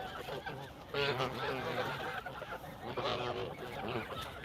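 Geese honking in a crowd as they press in to be fed, loud nasal honks close by, and a person talks over them.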